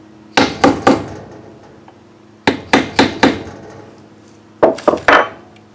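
Three sets of crisp taps as a crank seal is driven into place on a Kohler XT6 engine, each set three or four quick hammer strikes, close and loud with short pauses between groups.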